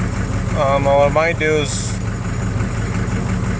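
A 6.5 turbo diesel engine idles high with a steady low rumble running under someone talking close by.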